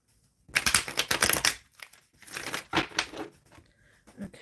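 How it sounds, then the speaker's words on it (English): Tarot cards being shuffled by hand, two quick bursts of crisp riffling and flicking clicks separated by a short pause, close and fairly loud with no talking. "Let me get this shuffled a little bit."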